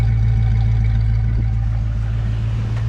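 An old car's engine idling smoothly with a steady, even exhaust drone, close and constant, with no misfires or burbles.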